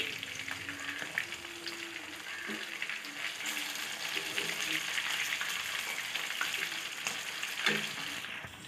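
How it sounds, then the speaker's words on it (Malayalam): Fish sizzling in hot oil in a pan for Kerala-style fish biryani, a steady crackling fry with scraping and knocks as the pieces are turned over. "നമ്മുടെ മീൻ ഒരു സൈഡ് ഫ്രൈ ആയിട്ടുണ്ട് ഇനി ഒന്ന് മറിച്ചിട്ട് കൊടുക്കാം"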